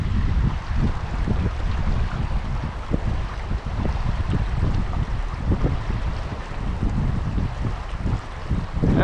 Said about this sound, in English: The wind blowing, jeez.